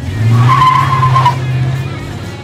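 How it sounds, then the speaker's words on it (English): A truck spins donuts, its tires squealing in one long sustained skid over a loud engine drone, rising then easing off. "I've never done donuts in this truck."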